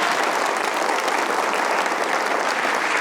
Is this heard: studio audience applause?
yes